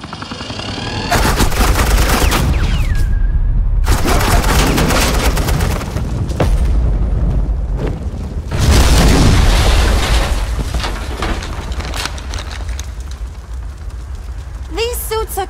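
Sustained, loud gunfire rattles through a Batman: The Enemy Within video game scene, with dense automatic bursts and booming shots. A brief gap sits between bursts, and voices are heard alongside.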